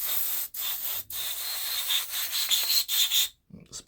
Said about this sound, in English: just gonna run my brass brush through each of the cylinder holes